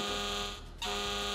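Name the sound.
game show alarm sounding for a wrong answer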